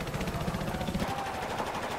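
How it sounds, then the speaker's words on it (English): Rapid automatic gunfire in Battlefield 4, fired through a wall, a dense steady burst of shots carrying on for about two seconds at close range with no talk. "I'll just shoot through the wall."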